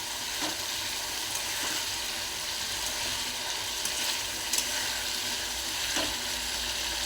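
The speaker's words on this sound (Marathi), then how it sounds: "हे चांगलं फ्राय होऊ देऊया आपण हे बघा छान गिजर फ्राय तेल सुटलेलं आहे" Chicken gizzards fry in oil with a steady, close sizzling hiss, broken by occasional faint stirring scrapes and small pops, no voices.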